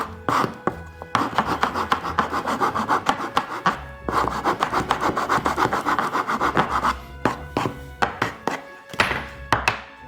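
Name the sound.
relieving a corner of a sanding core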